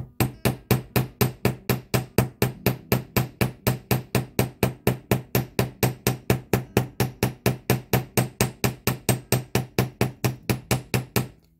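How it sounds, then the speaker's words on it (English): A small hammer taps metal wire in a fast, steady rhythm, about four sharp strikes a second, loud and close with no talking. "I'm hammering from what I think will end up being the back side of the piece"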